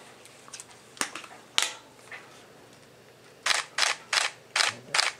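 A Nikon camera fitted with an AF-S NIKKOR 20mm f/1.8G ED lens fires its shutter indoors on a sample set, a few scattered sharp clicks followed by a quick run of five crisp, evenly spaced shutter snaps, close and clear.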